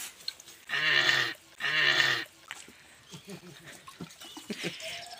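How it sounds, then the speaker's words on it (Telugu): Cow lowing twice in a row near a village home, two drawn-out calls each lasting about half a second, close and fairly loud, followed by quieter background talk and small rustling sounds. "ఆవు ఎట్లా అన్నది?"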